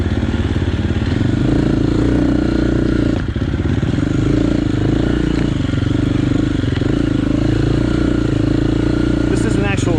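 An enduro motorcycle engine revs on a transfer section of an AMRA enduro race course, giving a steady, loud, close droning roar with small pitch shifts and a brief dip, under someone talking.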